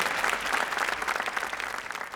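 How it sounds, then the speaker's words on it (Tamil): A hall audience at a Tamil pattimandram debate in Mumbai claps in welcome, a dense, steady burst of applause with no voices over it. "நீங்கள் ஒரு பெரிய கரகோஷம் கொடுத்து அவங்களை வரவேற்று விடுங்க"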